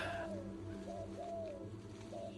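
Soft, repeated turtle dove coos sound at a distance, gentle and low, over a faint steady background hum.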